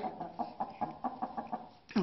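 An ornamental chicken clucks in a steady series of short, evenly spaced notes nearby, ending with a louder, sharper cluck.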